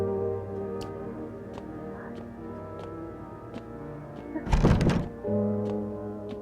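A sudden cluster of heavy knocking thuds at a door in a horror video game lands midway through, loud against a steady droning music bed with faint regular ticks.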